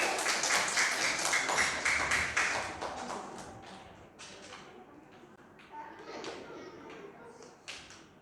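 A congregation claps for two performers at a Sunday school Christmas service in an Indonesian church. The applause starts dense and loud, then thins into scattered claps and taps, with a few voices murmuring.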